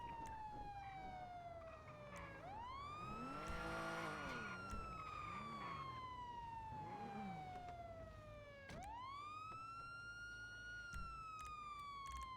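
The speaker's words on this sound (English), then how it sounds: "he left his fucking sirens on." A police car siren in the video game NoPixel 4.0 wails, sweeping up and down in long rising and falling glides, loud and close, restarting partway through with a fresh upward sweep.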